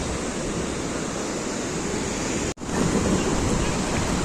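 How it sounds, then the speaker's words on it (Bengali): Sea waves break and wash at Puri beach as a broad, continuous roar with wind, steady and fairly loud, broken by one momentary dropout; no talk is heard. "কত ঢেউ আসছে,"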